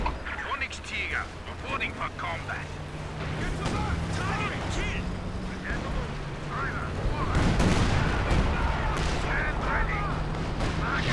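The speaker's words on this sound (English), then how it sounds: "Oh, he got 3 artillery pieces." Artillery fire in the World War II strategy game Company of Heroes 2, repeated booming blasts and crackling gunfire in a dense, continuous battle din that grows heavier, with voices talking over it.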